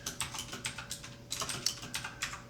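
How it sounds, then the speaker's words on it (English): Computer keyboard keys typed in quick irregular bursts while entering LISP code, close and clear with no one talking. "then typing out what I actually want the list to look like"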